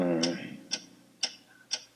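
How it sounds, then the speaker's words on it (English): A clock-like ticking sounds in four sharp, evenly spaced ticks about half a second apart, clear and close, following a brief low tone at the start. "What is that mysterious ticking noise?"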